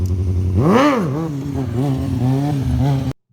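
A stunt motorcycle revs hard for a staggered wheelie with the foot brake on. One loud rising and falling surge peaks early, then several smaller steady throttle blips follow before the engine sound cuts off abruptly.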